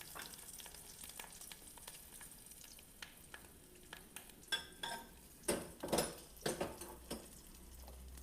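Bacon fat frying in a pan, a steady low sizzle with scattered clinks of a utensil stirring against the pan, growing into several louder scraping bursts toward the end.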